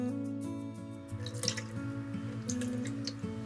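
Water is spooned into a chili and sugar sauce for fried pork ribs in fish sauce, with soft splashes and drips under steady background music.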